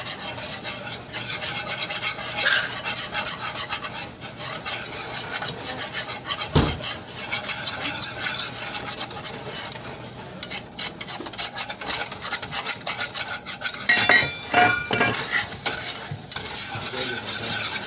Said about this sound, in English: you're going to want to add a cup of sugar. Just kind of whisk that in there